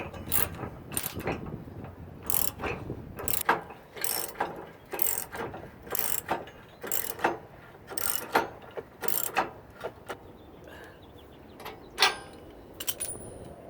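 A tow jaw fitting on a Land Rover Series IIA is tightened with a ratchet wrench, producing a long run of sharp, evenly spaced ratcheting clicks up close with no speech.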